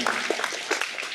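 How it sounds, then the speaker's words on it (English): Youth summit audience applause for Stephen in Taiwan, a brief spell of close, fairly loud clapping with a few sharper individual claps standing out. "Can we get an applause for Stephen as well?"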